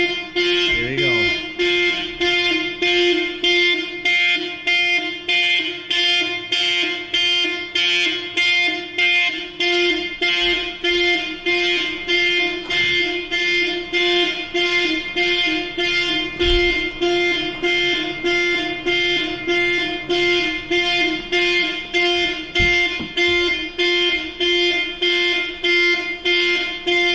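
A 1999 Mercedes-Benz W140 S500 car alarm blares loudly in a steady repeating pulse of electronic tones, cycling over and over without pause.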